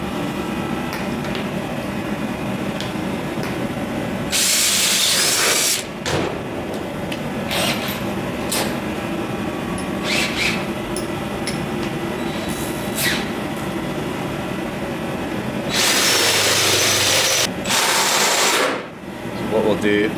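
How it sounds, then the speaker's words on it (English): A power drill bores an 8mm hole into an old tractor in a farm setting, with loud bursts of high-pitched drilling alternating with pauses, and scraping and handling noises in between. "we'll bore a 8mm hole in there, bolt it on, and then connect everything up"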